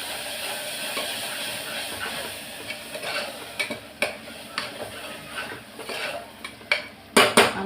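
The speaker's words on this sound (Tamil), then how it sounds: "அதையும் போட்டு நல்லா வதக்கலாம்." Ground tomato purée sautéing in a pan for chicken gravy, a steady sizzling hiss with scattered metallic clinks and scrapes of a utensil against the pan that grow louder toward the end.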